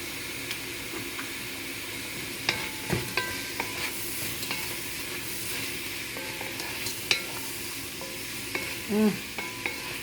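Shrimp stir-fry noodles with dark soy sauce, sesame oil and Maggi seasoning sizzle and hiss steadily in a pot, with scattered clicks and scrapes from stirring and no talk.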